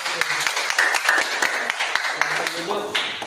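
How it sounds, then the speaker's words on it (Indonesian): Scattered clapping from a group, uneven and sparse, with voices talking and murmuring over it. "berikan tepuk tangan"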